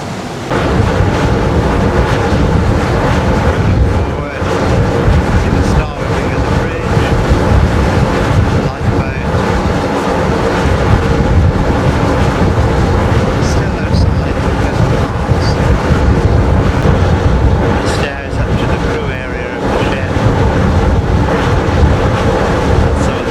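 Continuous rush of water churning past a moving sailing expedition ship, mixed with heavy wind buffeting and a low engine drone throughout.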